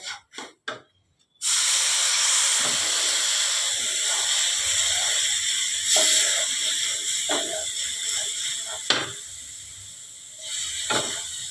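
Water poured into a hot pan of semolina halwa: after a few brief knocks, a sudden loud hiss of steam bursts up and holds steady, with occasional bubbling pops and a faint clink.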